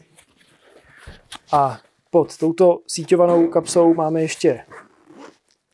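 A zipper slides open on the full-length zip side pocket of a Highlander Bahn 22 L Military Range backpack. It is brief and mostly under someone speaking close to the mic.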